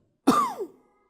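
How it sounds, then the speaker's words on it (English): One short, close cough with a rough throaty edge, heard alone against silence. "I coughed."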